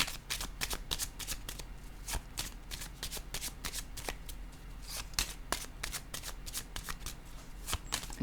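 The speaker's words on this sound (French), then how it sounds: "Je vais déposer une carte en cette zone." Playing cards shuffled and handled during a card reading, producing continuous crisp riffles and sharp snaps, close and even throughout with no talking.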